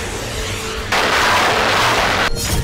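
Rocket and bomb blasts from news footage of the Russia–Ukraine war, a sustained roaring burst of explosive noise that swells loudly partway through and cuts off near the end, with no talk.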